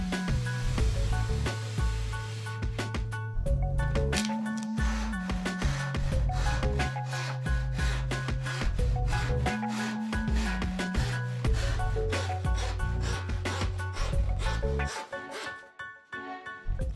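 A saw working steadily through the decorative face of an insulation panel, fast rhythmic rasping strokes close by, continuing for most of the stretch before easing off near the end.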